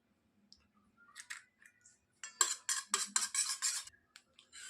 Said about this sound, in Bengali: এবার একটা ডিম ফাটিয়ে দিয়ে দিচ্ছি এর মধ্যে, ডিমটার মধ্যে মিশিয়ে নেব